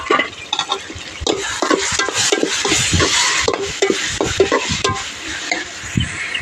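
Tomatoes and coriander tipped into onions sautéing in a pan, giving a steady frying sizzle broken by frequent stirring scrapes and clinks of a spoon against the pan, close and continuous with no talk.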